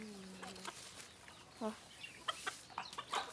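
Chickens on a Thai home farm, including a white hen, give several short clucks and squawks at close range, with faint background noise between the calls.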